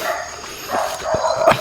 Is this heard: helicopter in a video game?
no